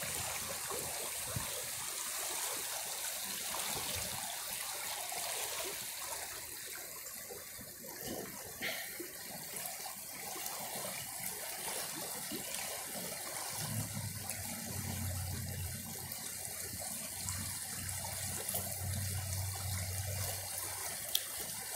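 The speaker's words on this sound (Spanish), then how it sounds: "Yo estoy en medio de un río." River stream flowing around a spot in the middle of the water, a steady broad rushing gush with trickling detail, constant and fairly close, no voices.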